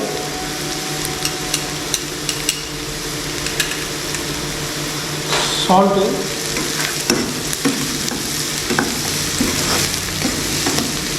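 Finely chopped vegetables for veg cutlets sauté and sizzle steadily in a hot pan, with stirring scrapes and spatula taps cutting through the continuous frying hiss, close and fairly loud, no talking.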